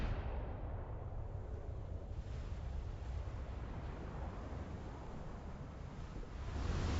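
Torpedo hits strike a ship in a realistic naval video game of US Navy and Imperial Japanese Navy battles, a long, low rolling rumble of explosions and churning water that stays loud throughout and swells again near the end.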